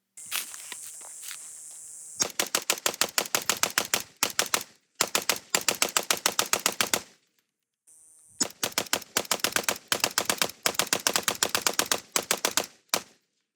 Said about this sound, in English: take another rifle that is banned within the state of Maryland but takes otherwise identical parts, put 30 rounds through it, mag dump through that